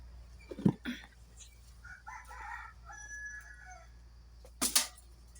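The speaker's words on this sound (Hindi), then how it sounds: "मुर्गियों पाले हैं तो इसलिए डिस्टर्ब हो रहा है थोड़ा" Backyard chickens kept at a home, with a rooster crowing and hens clucking at close range. Sharp calls burst out near the start and again toward the end, and a softer run of clucks sits between them.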